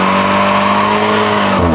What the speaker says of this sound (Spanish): Ah, perro, calentando llantas y todo el pedo.